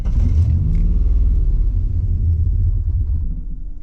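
A Holden VN V6 turbo engine runs at wide open throttle, a loud, deep, steady rumble heard up close from inside the car, with no talk over it.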